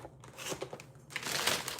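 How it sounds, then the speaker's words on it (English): A plastic bag crinkles and rustles softly in a busy morning kitchen as school lunch is packed, a brief close crackling run that swells louder toward the end. "I have to put it in a plastic bag."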